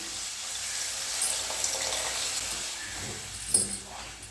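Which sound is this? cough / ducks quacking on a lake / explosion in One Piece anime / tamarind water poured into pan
tamarind water poured into pan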